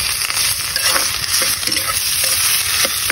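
Tuna fat sizzles and spatters in a hot pan as it renders into oil, with a utensil scraping and stirring at irregular intervals, loud and close with no talk.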